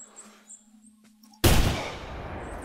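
After near silence, one sharp, loud rifle shot in the hunting video game theHunter Classic cracks out and then fades into a long rolling echo.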